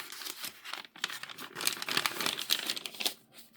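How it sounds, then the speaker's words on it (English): Old tea-stained graph paper is crinkled and handled close up, giving a run of dry, irregular rustling crackles with brief pauses, fairly quiet and with no speech. "I also love the way that these papers sound."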